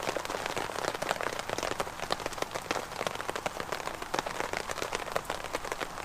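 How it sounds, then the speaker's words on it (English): Heavy rain pours down in the woods, a dense, steady patter of drops striking leaves and gear close by, with no voices. "This is like the third downpour I've been out in it now"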